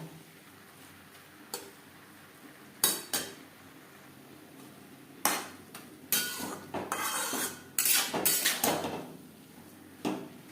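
Metal utensil scraping and clinking against a pan while radish is mixed with turmeric and salt, with irregular knocks and scrapes growing busier and louder toward the middle and a few sharp taps near the end.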